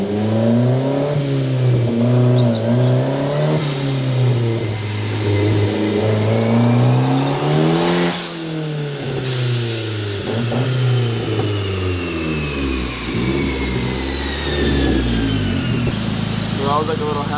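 Big-turbo Hyundai Genesis Coupe on a dyno, engine revving hard through repeated rising and falling pulls with a loud whine and turbo whistle, then easing off near the end.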